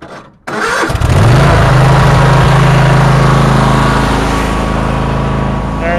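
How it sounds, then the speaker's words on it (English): A Troy Bilt or Massey Ferguson race tractor engine settles into a loud, steady idle close by after a short startup rumble, running alone with no talk. "let's let it idle for a bit."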